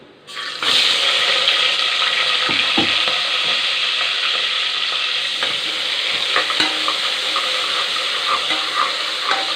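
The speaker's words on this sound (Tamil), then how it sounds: "வெங்காயம் நல்லா வதங்கணும்." Onions sautéing for chicken donne biryani. A loud, rushing sizzle starts abruptly and holds steady throughout, with a few spatula knocks and scrapes close by and no talking.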